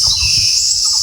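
A parrot calling in a garden, a shrill, sustained high-pitched squeal that runs throughout, with faint low rustling beneath.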